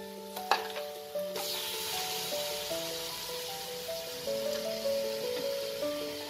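Large washed chicken pieces drop into frying spice masala for Hyderabadi chicken tahari. A thud and clatter set off a loud, steady, crackling sizzle that carries on without talk.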